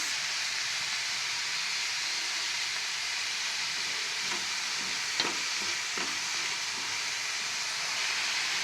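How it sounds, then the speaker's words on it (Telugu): Onions frying and being stirred in hot oil in a pan for a peanut curry, a steady close sizzle with a few scraping stir clicks partway through and no voices. "ఆయిల్ అయితే హీట్ ఎక్కింది. ఇప్పుడైతే ఆనియన్స్ వేసుకుందాము. ఆనియన్స్ వేసుకొని కొంచెం కలుపుకోవాలి."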